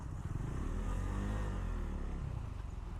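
A KTM 390 Duke Gen 2 single-cylinder motorcycle engine while riding, a continuous buzzing drone with a brief rising rev in the middle, close and fairly faint, with no talk over it.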